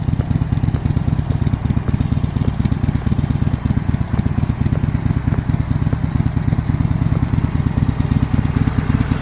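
A motorcycle engine runs steadily at low revs while a learner rides slowly in the friction zone. The loud, close, even chug continues throughout with no break and no talking.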